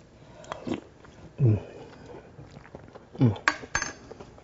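Eating blue crab chowder with fried oysters: a few soft utensil clinks and bites scattered across the moment, with faint chewing between, fairly close and with no talk.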